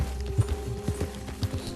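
Hooves of a horse in the Red Dead Redemption 2 video game clip-clop in a quick, regular walking rhythm over a low ambient hum, close and moderately loud.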